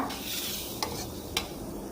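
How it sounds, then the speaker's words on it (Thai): Thai curry paste is stir-fried in a pan, giving a steady soft sizzle with two sharp scrapes of a utensil against the pan. "ค่อยๆผัดให้สุกเหลืองหอมนะคะ"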